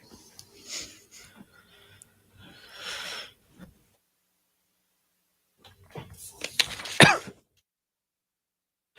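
A few throaty coughs and a rough throat clearing come in short bursts separated by silence, close and fairly loud.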